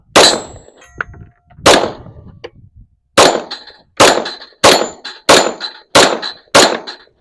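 Nine sharp pistol shots from a Gen 1 M&P9 with white sights, each followed by the bright metallic clang of rounds striking steel plates downrange, fired alone at a fairly steady pace with a longer pause after the first few.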